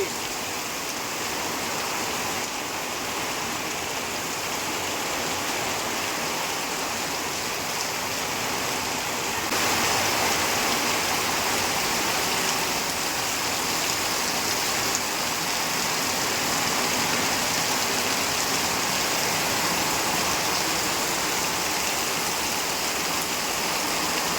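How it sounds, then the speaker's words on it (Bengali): Heavy downpour drumming on a tin roof, a dense, continuous roar of rain that grows slightly louder partway through, steady and close with no speech. "টিনের ঘরে বৃষ্টি, আওয়াজটা শোনো তুমি"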